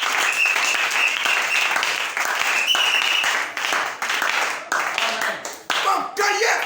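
A church congregation breaks into sustained applause and clapping, loud and continuous with crowd noise throughout, dipping briefly near the end.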